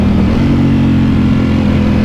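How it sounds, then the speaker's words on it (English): 2018 Ducati Panigale V4S engine holding a loud, steady, close growl through a quick-shifter gear change, with no voices over it. "Oh, that noise when you change gear on the quick shifter."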